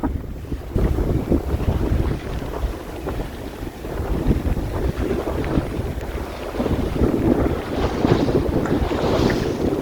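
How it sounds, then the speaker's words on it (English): Wind and hail on a sailboat in rough weather, with heavy gusting wind noise buffeting the microphone and a continuous rushing, pattering wash over waves, loud and close throughout. "it's hailing"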